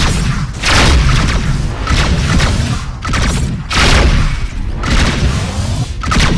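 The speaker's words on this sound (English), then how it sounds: "Missiles inbound." Missile explosions in the space combat game Rebel Galaxy, a loud continuous barrage of deep booms and rumbling blasts rolling in waves, with no voices over them.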